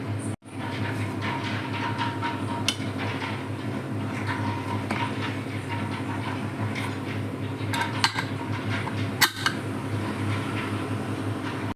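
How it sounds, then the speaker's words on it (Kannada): A pressure cooker's lid being shut and its weight set on while vegetable pulao cooks, a few sharp metallic clanks over a steady low background hum. "ಒಂದು ಕುದಿ ಬರುವಾಗ ಕುಕ್ಕರ್ ಮುಚ್ಚಳ ಮುಚ್ಚಿ ವೆಯ್ಟ್ ಹಾಕ್ಕೋಬೇಕು."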